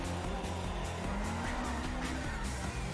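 A race car engine roars continuously at close range, its pitch dropping and climbing through downshifts and gear changes, with faint tire noise beneath.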